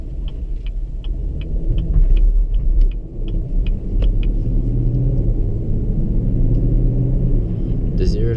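A 2016-17 Chevrolet Camaro 2SS engine rumbles steadily at low revs as the car is put into drive and pulls away, a close, constant drone with light clicks overhead and someone talking over it.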